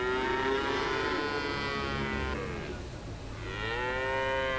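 Cattle mooing loudly in two long, close calls separated by a brief dip, with no talk over them.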